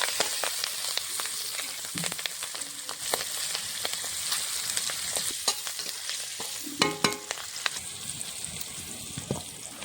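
Green chillies drop into a mustard oil tempering of bay leaf, cumin and nigella, crackling and sizzling steadily nearby, with a brief louder burst and stirring scrapes.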